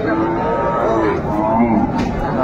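A cow lows at a busy village cattle market, the Raniganj haat, where dairy cows are sold with calves; the call rises over a constant murmur of crowd chatter, and people talk close by throughout.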